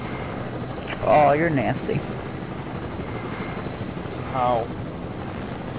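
A helicopter in a video game drones steadily under the whole stretch while players talk and exclaim over the continuous rotor noise.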